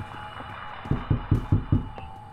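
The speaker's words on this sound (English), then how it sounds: "I hear a heartbeat." Heartbeat in the Roblox horror game Doors: five deep, evenly spaced low thumps in a steady throbbing rhythm over a quiet game hum, with no talking.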